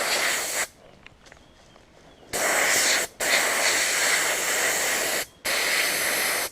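A spray paint can hisses loudly while paint is sprayed onto an antenna outdoors in a small forest, coming in long sustained bursts broken by brief stops and a quiet stretch near the start.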